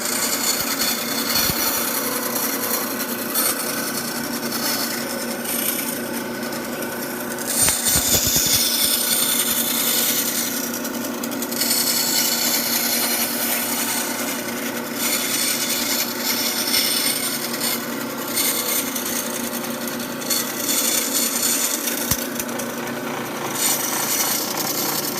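A bandsaw cuts a circle from a wooden piece turned on a pivot, giving a long steady grinding hum of blade through wood, loud and continuous with small shifts in pitch and a brief thump partway through.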